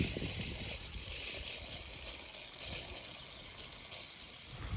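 Water hisses steadily through a garden drip irrigation line fitted with a pressure reducer, a constant close-up spray-like hiss with no voices.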